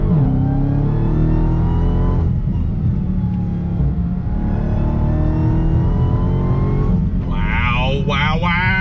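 A Dodge Hellcat Redeye accelerates hard in second gear on twisty roads, its supercharged engine roaring loud and close with a climbing pitch throughout, heard from inside the car.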